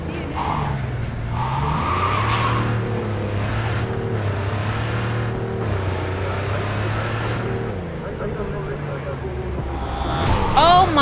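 Car skidding with tire squeals in Cyberpunk 2077, steady engine drone under continuous talk, with a sharper squeal burst near the end.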